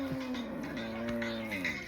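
A cow moos on a farm, one long, loud, drawn-out low call with wavering pitch that lasts the whole moment, close to the microphone with no talking.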